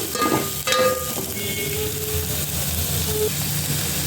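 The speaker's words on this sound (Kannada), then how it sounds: "ಸಾಸಿವೆ ಮೇಲೆ ಜಜ್ಜಿ ಇಟ್ಕೊಂಡಿರೋ ಬೆಳ್ಳುಳ್ಳಿ ಹಾಕ್ತಾ ಇದ್ದೀನಿ ಈರುಳ್ಳಿ ಈ ಸ್ವಲ್ಪ ಫ್ರೈ ಆಗಬೇಕು" Crushed garlic and onion frying in hot oil over a mustard seed tempering make a loud, steady sizzle with a couple of brief clatters near the start, and no talking.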